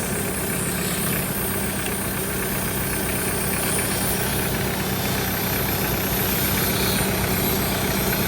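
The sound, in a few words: Mitsubishi Pajero engine running with AC compressor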